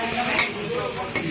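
Puffed rice (muri) being mixed with oil gives a busy, dry rustling and crunchy scraping, close and continuous, with a couple of brief clinks.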